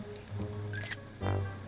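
A soft, quiet camera shutter click from a selfie in Animal Crossing: New Horizons, heard as brief crisp clicks against a low background hum, with no speech.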